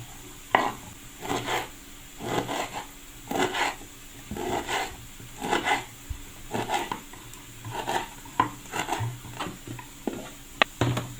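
Ballıbaba herbs are chopped on a board for an egg sauté, giving a string of irregular knife taps and scraping strokes, close and fairly loud, with no voices.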